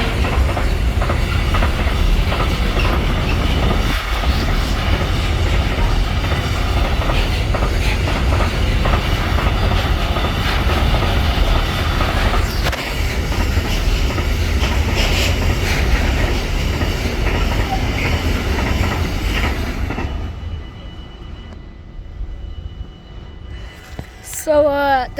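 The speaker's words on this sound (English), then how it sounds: "Dude, it's a freight train." A freight train rolls loudly through Oisterwijk station for about twenty seconds, wheels clattering steadily over the rails, before the noise falls away abruptly into quiet with a faint squeal near the end; a voice speaks briefly.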